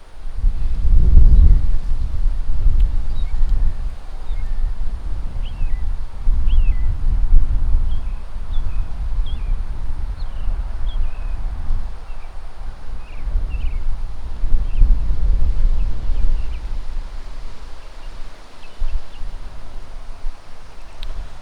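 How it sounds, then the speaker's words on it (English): Strong wind gusts buffet the microphone outdoors in a loud, continuous low rumble that surges and eases, with faint bird chirps in the background and no talking. "The wind is bad."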